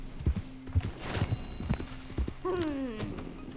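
Hooves clip-clop in an uneven rhythm, then a horse snorts and whinnies loudly near the end, with ambience from the video game Red Dead Redemption 2 behind.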